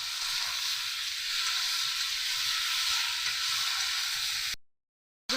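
Water goes into a pan of frying vegetables for shukto, setting off a steady, fairly loud hiss and sizzle that runs unbroken for several seconds and then cuts out abruptly.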